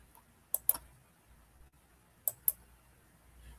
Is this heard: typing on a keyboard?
yes